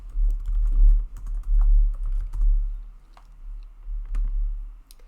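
Rapid typing on a computer keyboard while an answer is entered into an AI website builder, with an irregular run of close, crisp key clicks that pauses briefly midway and then resumes.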